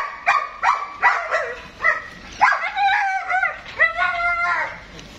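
Pet dogs bark in a series of short, sharp yips and woofs, some whining and howl-like, fairly close and repeated throughout with little pause.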